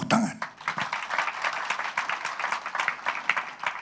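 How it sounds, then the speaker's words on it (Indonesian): A church congregation breaks into applause, a dense patter of many hands clapping steadily at moderate distance, filling the room without letup after a brief opening sound. "Berikan tepuk tangan."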